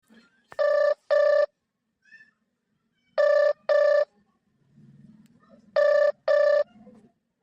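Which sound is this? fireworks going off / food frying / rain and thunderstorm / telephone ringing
telephone ringing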